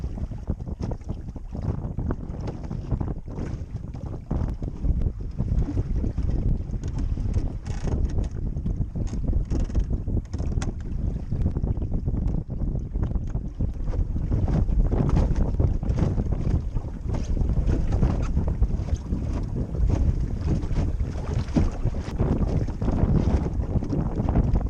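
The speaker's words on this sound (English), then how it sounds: "There's a fairly stiff breeze blowing" A stiff breeze buffets the microphone aboard a wooden sailboat on a creek, a loud and continuous gusty rumble that strengthens midway, with faint creaks of the boat beneath it.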